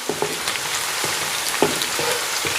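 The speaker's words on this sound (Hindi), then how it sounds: "हल्का सा इसको फ्राई करना है।" Onions fry lightly in oil with a soft, continuous sizzle and occasional scraping taps of a spoon against the pan, close and steady, with no voices.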